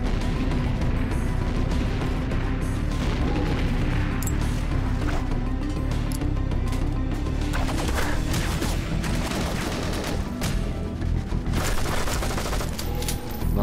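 Dense, continuous gunfire and explosions fill a GoldenEye: Source firefight on the Caves map, loud and unbroken throughout with no clear pauses between blasts.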